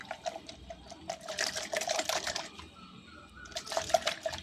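Water sloshes and splashes while rinsing a container for growing a money plant in water, with light trickling and swishing in uneven bursts, fairly quiet and close, no talking.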